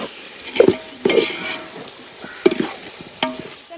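Chicken sizzles in a pan for biryani while a spoon scrapes and stirs it in several quick, separate strokes over a soft frying hiss.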